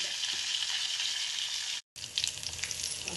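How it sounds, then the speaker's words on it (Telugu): Amla (Indian gooseberry) paste fries in a pan for a pickle, giving a steady close sizzle that breaks off for a moment and then resumes. "ఉసిరిగా పేస్ట్ 2 నిమిషాలు ఫ్రై చేసుకోవాలి."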